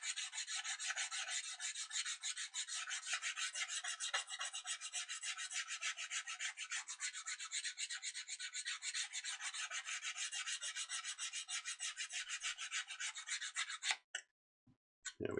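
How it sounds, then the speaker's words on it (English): Sandpaper is drawn gently and steadily along the covering of a Banshee model aircraft fuselage, producing a close, continuous dry hiss that runs for about fourteen seconds and then ends in a few soft knocks. "And then just very gently sand along it."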